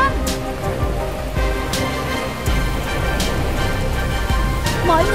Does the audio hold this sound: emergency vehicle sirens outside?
no